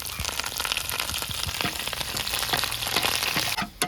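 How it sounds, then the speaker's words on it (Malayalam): Onion and curry leaves sizzle in hot oil for a thick chicken stew tempering, a dense, close crackling spatter with popping bursts throughout and a short clatter at the end. "എണ്ണ ചൂടായിട്ടുണ്ട് നമുക്ക് സവോള ഇട്ട് കൊടുക്കും കരിയേപ്പില കൂടെ ഇട്ട് കൊടുക്കുക"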